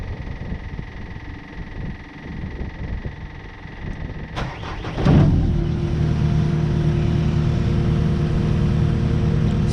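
A CAT 259D skid steer turns over with a short burst of cranking, then its diesel engine catches and settles into a loud, steady idle after a quieter stretch of background noise.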